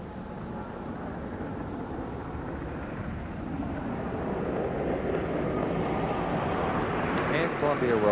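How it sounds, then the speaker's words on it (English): Space Shuttle Discovery rolls out on runway 4 at Edwards Air Force Base after touchdown at the end of mission STS-33, a steady broad roar of rushing air and rumble that slowly grows louder, with a voice talking over it. "Discovery rolling out at the end of mission STS 33 at Edwards Air Force Base on runway 4"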